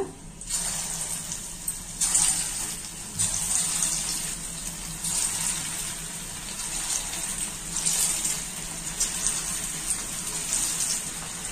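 Chicken 65 pieces fry in a pan of hot oil on a stove, giving a steady, close sizzling hiss that swells slightly in places and runs unbroken with no voices.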